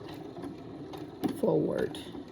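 A sewing machine stitches a lavender-filled knee warming pad, giving a brief, louder mechanical run of stitching that rises over a steady background hum while a person talks nearby.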